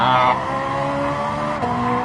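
A race car in Gran Turismo 7 holding a steady, loud engine note under a sustained tire squeal, with a brief drop in pitch near the end.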